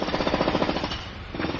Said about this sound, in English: We've got a jackhammer going on right now.